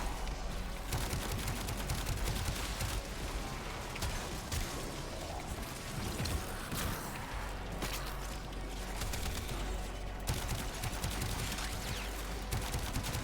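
Weapon fire in the video game Warframe comes as dense, rapid bursts of shots, a loud, almost continuous fusillade with brief pauses and mechanical clicks.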